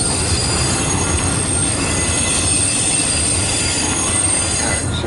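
Railfanning trackside as a train passes, with loud, continuous wheel squeal and rumbling rail noise filling the whole stretch close by, with no talking.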